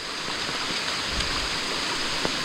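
Rain-fed stream water rushes steadily over a stream crossing, a dense, continuous close roar without breaks.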